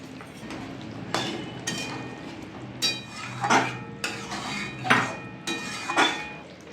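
A gram flour curry with garam masala is stirred in a metal pan, with a series of sharp spoon clanks and scrapes against the pan every second or so over a low background hiss.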